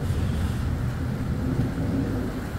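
Deep, continuous rumbling of thunder from a violent thunderstorm in the Drôme, France, loud and steady throughout, with a hiss of rain or wind layered on top.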